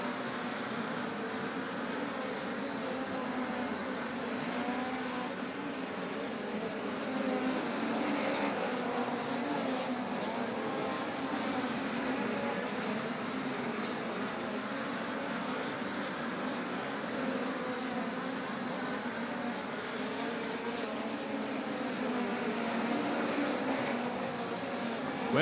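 Toyota-powered midget race cars circling Humboldt Speedway during a POWRi league race, a continuous dense engine roar from a distance, steady and unbroken throughout.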